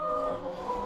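Chickens cluck softly inside a farm henhouse, a brief close burst of hen vocalizing.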